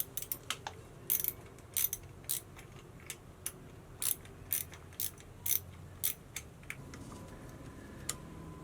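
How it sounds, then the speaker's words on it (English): Screws being loosened with a ratcheting driver to free wires from a variable speed pool pump motor, heard as a quiet, regular run of sharp mechanical clicks that thins out and stops near the end. "we're just going to loosen the screws up here and then pull the wires out"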